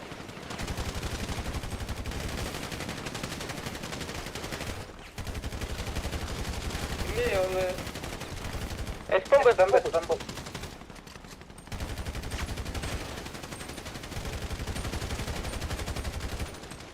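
Rapid bursts of video game gunfire repeat in long stretches, with brief pauses between volleys and a voice shouting briefly in the middle.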